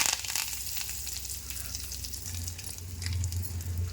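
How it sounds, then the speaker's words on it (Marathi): Grated coconut dry-roasting in a hot pan for a Maharashtrian mutton masala, giving a steady soft sizzle and crackle with light scraping, fairly close and continuous, no talking. "आता मी पहिलं खोबरं भाजून घेत आहे."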